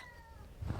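A single cat meows briefly and fairly quietly, followed by a soft low rumble.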